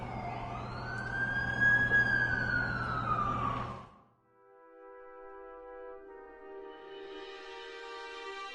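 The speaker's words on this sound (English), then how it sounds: "That's the ambulance I called." An ambulance siren wails in a rising and falling sweep, fading out briefly before a second electronic siren tone rises in, moderately loud with no talking.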